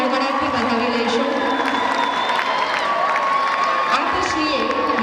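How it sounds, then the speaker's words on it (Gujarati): An audience at a school cultural program gives loud, sustained applause mixed with cheering and children's shouts, forming a dense, continuous wall of crowd noise. "તો આપણે સૌ તેમને તાળીઓના ગડગડાટથી વધાવી લઈશું."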